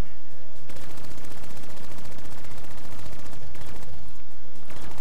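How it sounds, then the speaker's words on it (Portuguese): Rapid automatic gunfire from a sentry gun in Call of Duty Black Ops 3, a dense, sustained burst of shots that runs nearly continuously, loud and close, with brief pauses near the start and end. "Ó, uma sentry gun"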